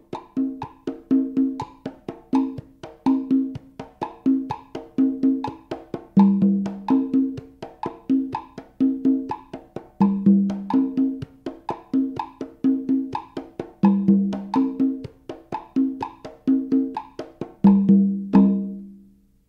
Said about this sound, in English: This is the basic tumbao that I played through the cha-cha-cha in a 2-3 clave, and it sounds like this.